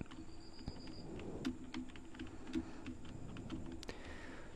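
Keys tapped on a computer keyboard in short, uneven bursts of soft clicks, close up and quiet over a low steady hum, with no voices.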